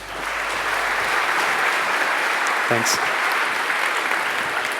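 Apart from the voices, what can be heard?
conference audience applause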